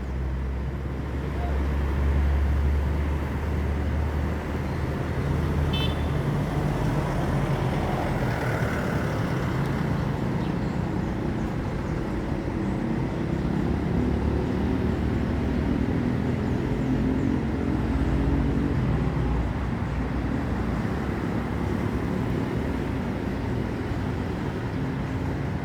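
A bus with a Laksana SR2 body on a Hino chassis drives along, its engine droning low and steady with road noise and a faint rising whine, voices heard now and then under it.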